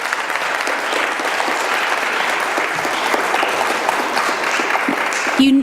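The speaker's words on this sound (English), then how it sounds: "let's give them a round of applause" An audience at a panel discussion event applauds, with loud, dense, sustained clapping filling the room for several seconds.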